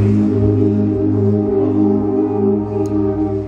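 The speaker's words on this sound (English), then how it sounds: "I have a very complex pad here that uses so many waveforms, and it sounds like this" A complex synthesizer pad built from many layered waveforms holds a dense, sustained chord with steady low tones and a rich, buzzy texture, loud and alone throughout.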